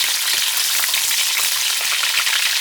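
Vegetable leaves frying in hot oil in a home kitchen, a steady dense crackling sizzle that stays loud and even throughout, with no voices.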